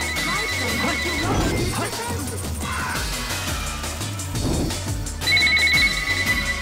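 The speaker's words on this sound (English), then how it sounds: "The phone's going off again." An in-game phone in Sonic Adventure 2 rings in two bursts of steady electronic trilling, at the start and again near the end, over dense game music, crashes and effects.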